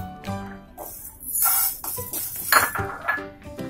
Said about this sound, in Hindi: सबसे पहले इस पे डालेंगे अरहर दाल,